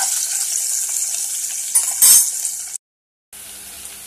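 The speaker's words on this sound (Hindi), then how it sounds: "इसको थोड़ा सा फ्राई कर लेते हैं।" Onion, green chilli and garlic ginger paste frying in a pan for baby corn Manchurian hiss in a loud, steady sizzle, with a clink of utensils partway through before a brief silence and then resumed frying.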